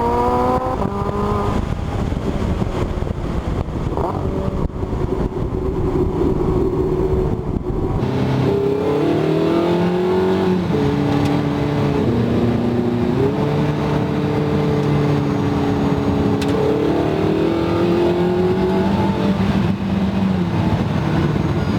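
A Porsche 918 at full throttle gives a loud, sustained engine roar that climbs steeply in pitch, drops at each gear change and climbs again, with no talk over it.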